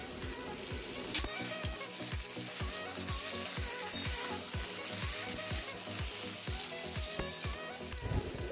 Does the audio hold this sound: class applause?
no